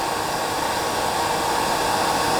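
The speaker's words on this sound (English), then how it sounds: "I'm going to use the hairdryer just to push it back." A hairdryer blows in a loud, steady rush over a small cinnamon sedge fly being tied with hen hackle, with no other sound.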